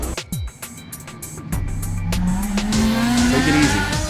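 A Toyota AE86 from the anime Initial D races at full throttle, its engine revving higher in a rising whine after a few sharp opening clatters, with tire squeal layered over the loud run.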